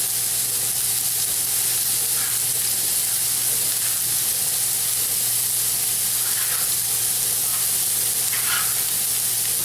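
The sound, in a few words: carrots sautéing in oil in a pan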